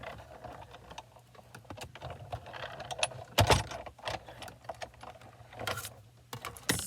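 Scissors snipping out a small paper flower shape for a handmade card, with irregular close, quiet clicks and crisp cuts, one louder snip in the middle, and no voices.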